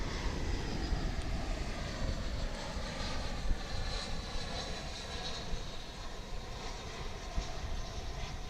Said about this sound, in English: Here comes one of those minibuses from Querétaro in Mexico, an A319, American Airlines.